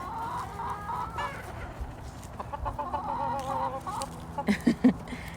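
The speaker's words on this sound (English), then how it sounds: "So that's the chickens." Chickens cluck softly in a steady murmur, with a few louder, sharper clucks near the end.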